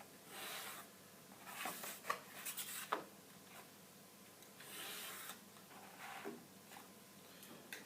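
A pencil drawing a series of guide lines on mat board, soft scratchy strokes repeating in short bursts, close but faint, with no talking.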